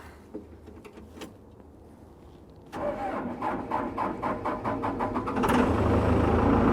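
A road grader's diesel engine cranks and catches in a bus towing yard, a quiet stretch giving way to rhythmic starter chugging, then the engine fires up loudly and settles into a steady close rumble.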